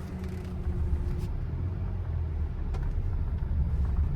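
A Honda City pulls away in first gear, its engine a low steady rumble heard from inside the car, rising slightly as it moves off, with no talking.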